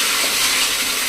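A splash of water poured onto thalipeeth dough on a hot pan, a brief close, even watery hiss with no voices over it.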